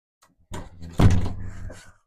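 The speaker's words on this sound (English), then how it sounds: "I'm just going to close this door." A door pushed shut indoors, landing as one close, solid thud with a brief scrape before it and a short rattling decay after, alone with no talking.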